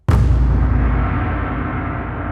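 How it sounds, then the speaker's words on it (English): A big metallic gong hit layered into a cinematic trailer impact, with a sharp attack and a deep, rusty metallic roar that rings and slowly decays over two seconds. "which one of them has this big gong thing."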